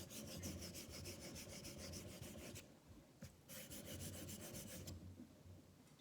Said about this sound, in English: So I'm going to do about 125 more strokes the other direction.